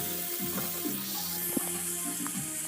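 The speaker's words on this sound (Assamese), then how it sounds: "এইখিনি মই ধুনীয়াকৈ মছলাৰে ফ্ৰাই কৰি লওঁ" Half-boiled black lentils fry in a pan with spices, dried chili and bay leaf, giving a steady close sizzle with faint clinks of stirring throughout.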